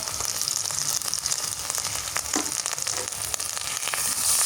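Spices fry in oil in a pan for a home-style vegetable curry, giving a loud, steady, close sizzle with faint scraping stirs and crackles throughout.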